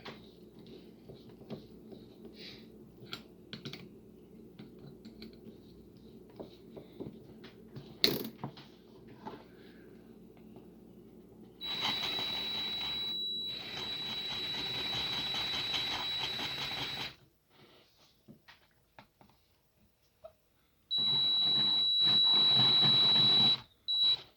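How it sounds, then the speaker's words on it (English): A power drill fitted with a half-inch bit smooths the edges of a metal part, running in two long, steady, loud bursts with a high whine, separated by a brief pause and preceded by lighter handling clatter. "I'm going to put a 1/2 inch bit in and just kind of smooth those out a little bit."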